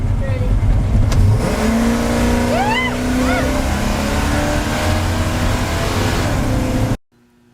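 A 1971 Chevy pulling away under hard acceleration with the gas pedal pushed down, its engine roar loud and sustained for several seconds before cutting off abruptly, with a voice briefly audible over the engine.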